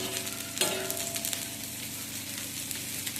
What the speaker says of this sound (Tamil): தோசைக்கல் ஹீட் ஆகிடுச்சு இப்போ நம்ம கட் பண்ணி வச்சா ஆனியனை இதோட போட்டோம்